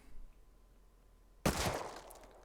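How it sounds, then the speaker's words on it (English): A single MP5 shot in the video game Rust lands abruptly after near-silence, a sharp loud crack trailing into a brief rough decay, with no talk over it. "now we're going to take a headshot off of the MP5"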